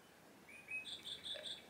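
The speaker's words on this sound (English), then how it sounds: "Birds tweeting." A small indoor clock chimes on the hour with recorded birdsong, a few short, faint chirps in quick succession over quiet room tone.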